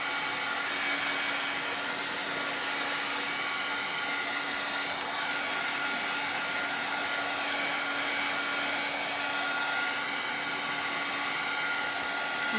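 A hair dryer blows on a painting of Santa and Mrs. Claus to dry the paint, producing a loud, steady whooshing drone that runs unbroken throughout with no talking.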